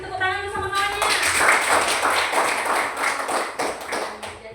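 Children in a classroom clap together in a brisk burst of applause that follows a teacher's voice, close and lively with uneven rhythm.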